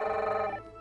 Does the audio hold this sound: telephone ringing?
yes